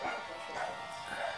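Dogs bark and yip in quick bursts at a moderate distance, the barks repeating irregularly while a person talks over them.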